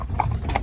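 Hooves of a novice four-in-hand carriage horse team moving off together, a couple of soft, close clip-clops over a loud rumbling outdoor background.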